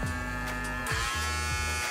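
A PMD Kiss lip plumping device running at speed two, a close electric buzzing hum that pulses and wavers in strength, alone without talk.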